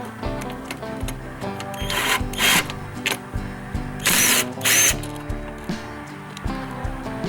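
A small impact driver with a 1/4 inch adapter and swivel removes 3/8 bolts from a pressure washer, giving several short rattling bursts over a steady background hum, close by with no talk.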